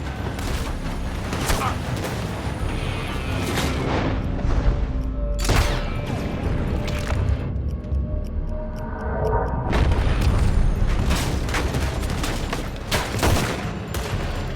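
Loud Red Dead Redemption 2 gunfire comes in repeated bursts of sharp shots and booming blasts, with quieter gaps between the volleys.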